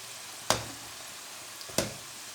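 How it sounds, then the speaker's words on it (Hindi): Toffee samosas fry in hot oil with a faint, steady sizzle, broken twice by sharp, brief clacks about a second apart, close by and with no voices. "अब इनको फ्राई होने देते हैं।"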